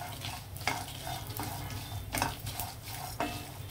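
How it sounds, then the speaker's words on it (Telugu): Lentils frying lightly in oil in a pan while making capsicum roti pachadi, a soft steady sizzle with a few sharp scrapes of a spoon stirring against the pan. "ఈ పప్పులు కొద్దిగా వేగాయి చూసారా, కొంచెం కలర్ మారితే సరిపోతుంది"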